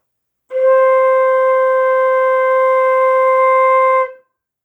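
One steady woodwind tone sustained for roughly three and a half seconds, played alone with a clean start and a smooth fade.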